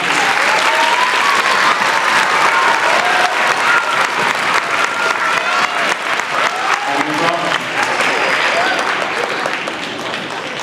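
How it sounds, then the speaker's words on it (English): An elementary school audience at a Veterans' Day program gives loud, sustained applause, a dense crowd of clapping with a few individual claps standing out, lasting about ten seconds before easing slightly. "give them a round of applause just now"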